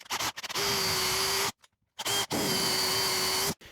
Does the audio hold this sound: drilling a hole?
yes